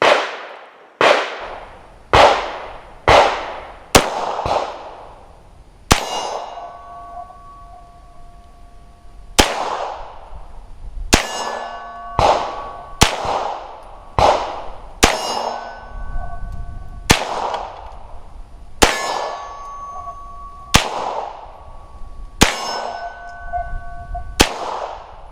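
Gunshots ring out against double steel targets on a shooting range, about a dozen sharp cracks each followed by a bright metallic clang, fired first in a quick string and then at a slower, evenly spaced pace.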